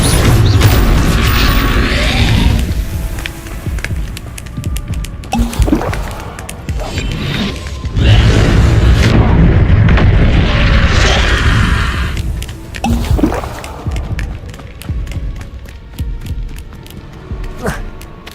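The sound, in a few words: Incendio fire spell explosions in the video game Hogwarts Legacy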